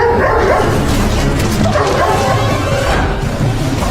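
A dog makes bow-wow barks and yips in a restaurant, loud and fairly continuous against a busy, noisy background with some voices.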